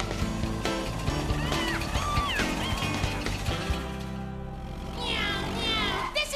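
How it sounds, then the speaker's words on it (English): A few cat meows in a Bob the Builder cartoon rise and fall over busy background sound and music, with a scramble of noise partway through. "Meow, meow."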